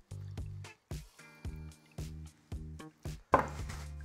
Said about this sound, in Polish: Wodę teraz odlewam